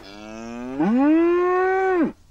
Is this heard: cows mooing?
yes